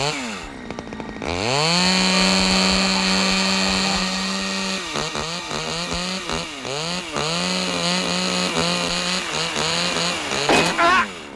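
A chainsaw cutting down a tree revs up loudly and runs steadily, its engine pitch dipping and rising repeatedly as it bites and eases off, with a brief high whine near the end.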